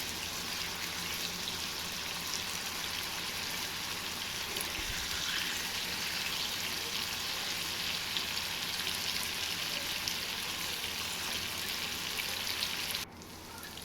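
Prawns for a spicy pepper fry sizzle in a pan: a steady, dense crackling hiss that stays close and even throughout, with no talking.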